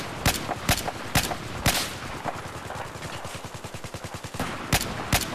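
Gunfire in a Battlefield 4 multiplayer match: sharp, loud single shots punctuate a fast automatic rattle that runs through the middle, with more distinct cracks near the end.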